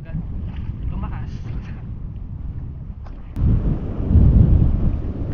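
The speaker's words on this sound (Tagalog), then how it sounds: "Daming ulan eh." Heavy rain and gusting wind buffet a boat near Jomalig Island, a low rumbling roar that surges louder partway through, close to the microphone and dense with wind noise.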